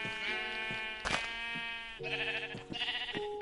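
Minecraft sheep bleating in a survival world, a few clear wavering bleats in close succession, one sharper bleat near the middle, heard up close with no talking.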